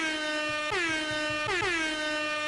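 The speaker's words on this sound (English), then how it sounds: "we got to give you an air horn" An air horn sound effect plays during a live stream, two loud blaring honks in quick succession, the second starting about a second after the first.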